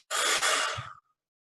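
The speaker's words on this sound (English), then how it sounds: "I'll exhale through my mouth, but I'll purse my lips to control the exhale." A single forceful breath pushed out through pursed lips, a steady airy hiss lasting close to a second, close and fairly loud, with no talking.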